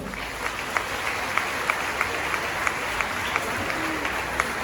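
A congregation at a Divine Mercy retreat claps steadily, a dense, moderately distant round of applause with a few sharper claps standing out and faint voices mixed in.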